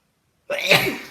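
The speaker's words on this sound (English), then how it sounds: "I'm going to sneeze, guys." A single sharp sneeze bursts out close to the listener after a moment of silence, loud and abrupt.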